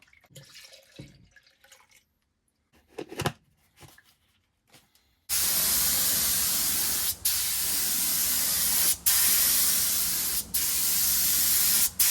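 A spray gun lays clear coat on the roof of a 1988 Corvette with a loud, steady hiss in long passes, broken by short pauses between strokes, after a few quiet seconds of faint handling noises.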